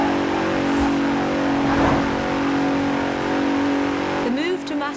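Engine of a 2017 Bentley Continental Supersports in Forza Horizon 4, a steady revving drone with a rising whine near the end, heard beneath a speaking voice.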